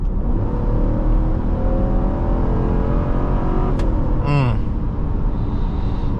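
A 2026 Dodge Durango GT Plus with a 5.7 Hemi V8 accelerates hard, a loud, steady engine roar with rising harmonic tones building toward highway speed, capped by a brief whine near the end.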